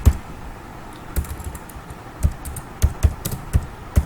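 Keys tapped on a computer keyboard, a sparse run of distinct clicks and a few backspace presses spread unevenly, close and fairly quiet with no talk.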